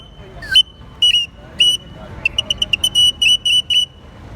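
A Mexican handmade bird whistle, a chirimia, blown in a series of bright, piercing chirps, with a few separate calls first and then a faster run of short, clipped trills. It sounds close and loud against a quiet background.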